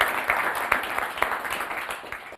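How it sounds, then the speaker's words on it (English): Audience applause for a director and main speaker at a refugee-themed student event in Kenya, a dense burst of many hands clapping at moderate distance that fades out after a couple of seconds. "let's give both our director and our main speaker a big round of applause"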